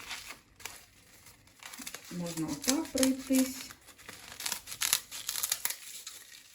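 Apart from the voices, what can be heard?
scissors cutting nori sheets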